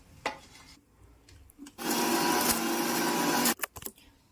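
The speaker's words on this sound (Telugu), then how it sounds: "ఆనియన్స్ని కూడా వేసి మనం మిక్సీ జార్లో మెత్తగా పేస్ట్ చేసుకుందాం" A mixer grinder whirs loudly for about two seconds, grinding onions to a paste, with knocks and clatter of the jar before and after the burst.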